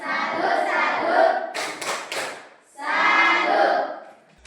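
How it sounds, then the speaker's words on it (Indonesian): A school class claps hands together, a brief burst of sharp, sparse claps sitting between two stretches of loud, rhythmic group chanting in a classroom. "Mari kita tepuk tangan dulu."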